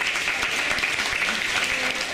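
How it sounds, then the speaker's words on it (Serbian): Applause from the audience at a Christmas and New Year cocktail party: dense, steady clapping that carries evenly through the whole stretch with no talk over it. "Jedan aplauz za Ivanu"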